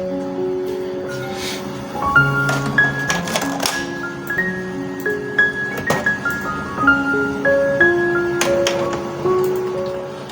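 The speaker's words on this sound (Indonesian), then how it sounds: "Kita coba buat print." A Canon iP2770 inkjet printer printing a page, a busy stream of close mechanical whirs, clicks and rising and falling motor tones with small clinks and ticks throughout, with no talking.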